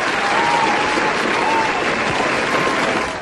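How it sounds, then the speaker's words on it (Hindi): Steady applause from a small crowd, clapping continuously and fading slightly at the end. "भाई तालियां बनती हैं उनके लिए"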